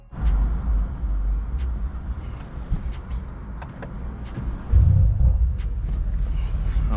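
A 2019 Mercedes-AMG C63 S fires up with a loud, steady engine rumble close by, a few sharp crackles popping over it and a brief surge in volume near the end.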